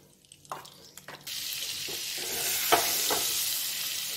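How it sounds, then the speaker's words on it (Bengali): Butter melting into hot oil with whole spices, tomato puree and cashews in a pan, a few clinks and taps at first, then a sudden steady loud sizzle with occasional stirring scrapes, close by and without voices. "এতে একটু বাটার দেবো"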